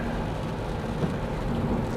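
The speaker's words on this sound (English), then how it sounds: "Rainy, chilly day today." Rain falls on a car driving along a road on a chilly day in Taiwan near the coast, a steady dense hiss of drops mixed with low road rumble and no voices.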